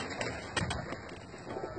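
Pigeons coo softly in a loft of vaccinated breeding birds, low murmuring calls in a steady background with a few slightly louder notes.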